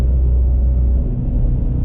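Ford Mustang GT350 with a manual gearbox, heard from inside during a downshift: a loud, deep engine rumble that swells and settles as revs change, steady and close with no talking.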